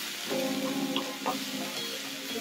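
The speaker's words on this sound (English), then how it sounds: "Add in the sliced tomatoes. Move the ingredients to the side of the pan," Sliced tomatoes and moringa leaves sauté in a pan with a soft, steady sizzle and a few light clinks and stirs, fairly quiet and close.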